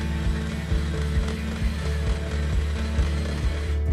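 An electric mixer beating cheesecake batter in a bowl, a steady motor hum with a regular rhythmic knock repeating quickly and evenly throughout, fairly close.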